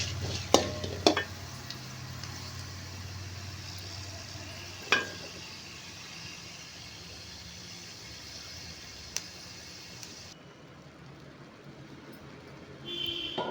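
Curry leaves tempering in hot oil before being poured into pongal: a steady soft sizzle with a few sharp clinks of a utensil against the pan, then quieting as the heat is cut.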